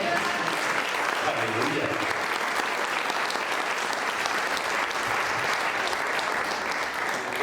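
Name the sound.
congregation applause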